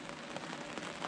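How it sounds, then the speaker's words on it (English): Steady rain falls on a river during a catfishing trip, a dense, even hiss of drops with no pauses or other sounds. "the rain has shown up. So it's coming down steady, nothing horribly bad"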